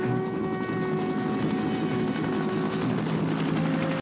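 Helicopter in the film Missing in Action, its rotor and turbine roar loud and steady with a sustained engine whine, continuous throughout without pause.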